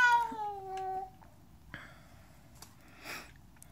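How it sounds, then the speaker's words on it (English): A cat meows in a clear, rising-and-falling call near the microphone, followed by a couple of faint snuffles and soft noises in a quiet room. "That's a kitty."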